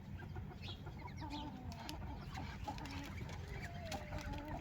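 Chickens cluck repeatedly over a busy farmyard background, with scattered bird calls and faint rustling throughout.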